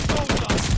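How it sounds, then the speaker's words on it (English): Rapid close gunfire in Call of Duty: Vanguard, a dense loud burst of shots fired in quick succession across the whole short moment. "I gotta slow my shots down with this gun"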